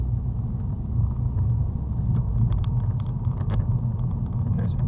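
A car being driven in second gear during a driving lesson gives a steady, loud low engine rumble that holds even throughout, with no clear rise in pitch and no talking.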